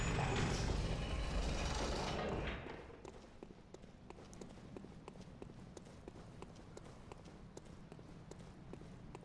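A rolling boulder trap in Bloodborne thunders in with a loud, dense rumble for about two seconds, then drops away to a quieter rattling, clattering texture of rapid ticks and creaks that continues to the end.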